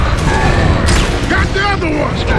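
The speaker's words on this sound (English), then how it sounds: "Another mortar!" Mortar blasts and heavy booms from the video game Gears of War: Judgment ring out loud and close amid battle clutter, while voices shout over the din.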